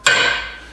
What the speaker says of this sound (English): why don't you go get a hammer instead of using the press?